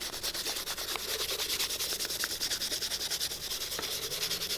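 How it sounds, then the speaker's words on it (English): High-grit sandpaper rubbed over the toes of Allen Edmonds leather shoes, a close, continuous rhythmic scratching with quick back-and-forth strokes. "I'm going to use a little sandpaper and try to get all these spots smoothed out"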